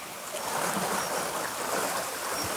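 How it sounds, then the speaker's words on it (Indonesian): A large volume of water suddenly pours down, making a loud, continuous rushing roar with no pauses, close by and heard on its own without voices. "Tiba-tiba turun air banyak."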